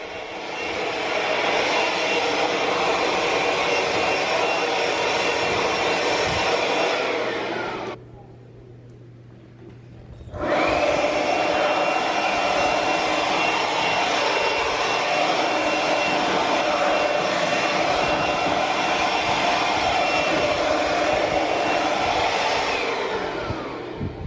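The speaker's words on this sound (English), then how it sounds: "So I'm going to go ahead and use the blower, and I'm going to blow behind this piece of furniture." Air blower blasting dust out from behind heavy furniture against a wall indoors, a loud continuous roaring whoosh that cuts out for about two seconds and then resumes just as strongly.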